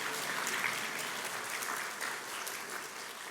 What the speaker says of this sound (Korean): 환영의 박수 한번 하시죠